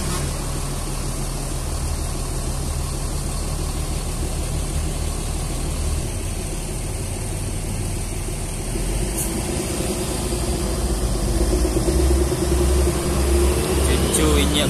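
A Sumbar long-distance bus engine rumbles low and steady as the coach drives into the Muara Bungo terminal, a continuous heavy drone with road noise, briefly rising near the end, while voices talk over it.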